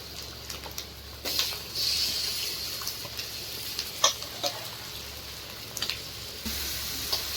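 Fish pieces fry in a pan with turmeric for fish pulusu, a steady sizzle broken by gentle scrapes and light clicks as they are stirred slowly and carefully.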